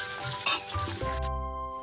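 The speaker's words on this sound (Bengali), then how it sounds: "তো এগুলো ভেজে ফেলি" A short burst of hissing sizzle from capsicum frying in a hot pan, with a steady hum underneath.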